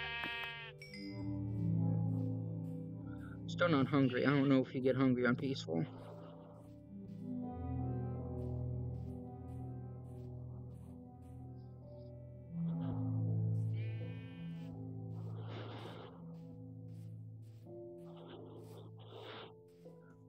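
Sheep in Minecraft played in VR via Vivecraft bleat in short wavering calls, with someone talking over and between them.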